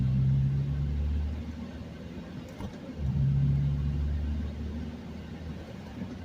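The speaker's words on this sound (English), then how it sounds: "now I'm going to get up to 5th gear" A manual-transmission car accelerates and works up through the gears toward fifth, its steady low engine rumble dipping briefly near the middle as a shift happens and then rising again, heard from inside the cabin.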